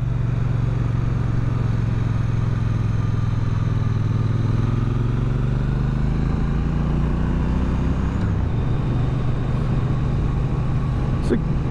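A 2023 Triumph Bonneville T120 is ridden with a loud, steady engine drone close by. The engine pitch rises, then drops and resettles as the rider shifts gears, with heavy wind rush throughout.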